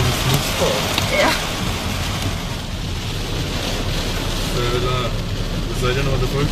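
Torrential rain from a severe hailstorm in Bretten near Karlsruhe, with flooded streets, sounds as a constant loud wash of falling water and runoff, with people talking over it close by.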